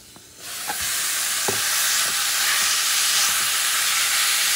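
Yak meat hits a medium-sized pot over medium-high heat and breaks into a loud, steady sizzle, with a few sharp knocks of the spoon as it is stirred at the start.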